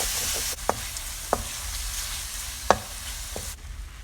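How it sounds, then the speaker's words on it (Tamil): Boneless chicken pieces sautéing in oil with garlic for samosa filling, a close continuous sizzle punctuated by a few sharp clicks of a spatula against the pan. "அந்த சிக்கனையும் போட்டு நல்லா ஆயில்லையே வதக்கிடலாம்"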